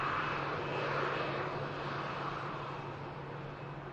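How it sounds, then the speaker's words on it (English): A Jet2 passenger jet taxis toward the runway at Manchester Airport, a steady broad jet engine roar heard from a distance, continuous and fading slightly, with no voices. "the Prague outbound of Jet 2 is heading over to the second runway there"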